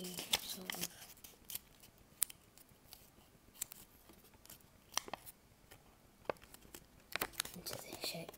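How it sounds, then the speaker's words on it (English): Origami paper is creased and folded while shaping an icosahedron, giving soft crinkles and sharp rustles. They come in scattered bursts under quiet speech. "You're going to fold this line onto the line here."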